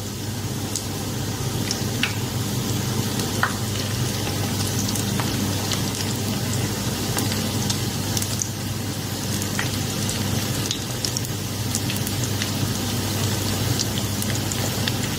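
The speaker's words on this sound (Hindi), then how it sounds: "लो मीडियम हीट पे मैं इसको फ्राई करूँगी" Chicken cutlets frying in a pan over low-medium heat give a steady close sizzle with scattered small pops and crackles throughout, alone without any talking.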